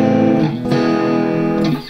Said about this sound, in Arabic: ده صوت فيه ديستورشن شويه